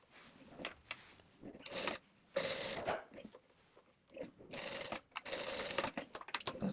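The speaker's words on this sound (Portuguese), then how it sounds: "nós vamos costurar aqui embaixo até onde começa a costura da cintura do short" A sewing machine stitches the seam of homemade shorts in short, quiet bursts of rapid whirring and clatter, separated by brief pauses as the fabric is repositioned.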